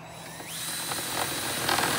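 A power drill boring a hole through an RV entry door for a deadbolt, its motor whining steadily and close up, the pitch rising briefly as the bit bites and shaves through the door.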